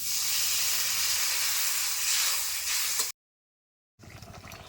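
Water poured into a hot pan of fried spices with potatoes for a gozar fish curry: a loud, rushing steam hiss for about three seconds, then a sudden break, followed by a quieter bubbling sizzle.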